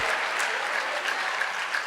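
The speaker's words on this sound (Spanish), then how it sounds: "dale un fuerte aplauso al Señor." Applause from a church congregation during a Spanish-language worship service, a steady dense wash of clapping that holds throughout at moderate level with a faint crowd murmur underneath.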